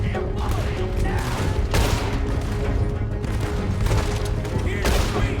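Gunfire in Red Dead Redemption 2, a sustained barrage of loud, close shots and bursts in rapid irregular succession, with voices shouting underneath.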